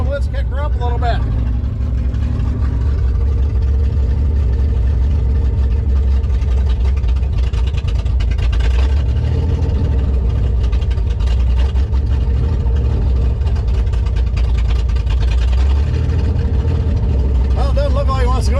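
A car engine idles at about 1500 RPM while running without oil, a loud, steady mechanical drone that holds even throughout, with someone talking over it.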